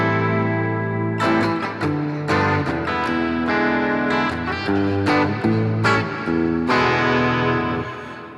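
An electric guitar plays chords and notes through a BOSS GT-1000 processor set to a bright hall reverb, with lush, sustained tails washing continuously under each new strike, loud and alone.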